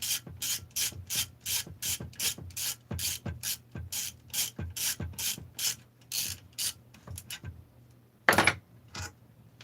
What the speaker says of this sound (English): So I'm just using my easy outs here to get these case bolts